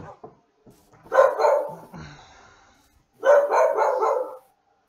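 A dog barking in Minecraft: two loud, close bursts of several rapid yelping barks separated by a short pause, with faint softer whimpers at the start.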